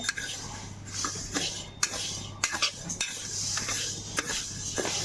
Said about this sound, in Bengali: এখন মুগ ডালটা ভাজা হচ্ছে